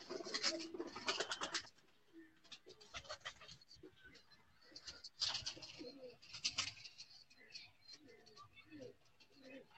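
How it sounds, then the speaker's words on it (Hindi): Several soft pigeon coos from a large breeding pigeon and its kin in a home pigeon loft, repeating in short throaty bursts at close range, with scratching and someone talking now and then. "ये बड़ा कबूतर है जी 41 नंबर"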